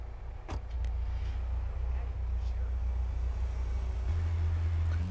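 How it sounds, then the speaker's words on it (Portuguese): Armored truck in GTA San Andreas, its engine starting with a brief clunk and then a steady low rumble as it drives off, loud and continuous with no speech over it. "Entre no carro forte junto com o CJ."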